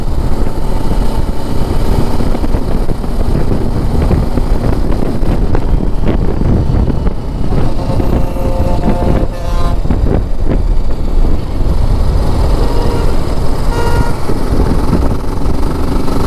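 TVS Apache RTR 310 motorcycle engine droning steadily at speed, heavily mixed with loud wind buffeting on the microphone throughout, with no clear talk.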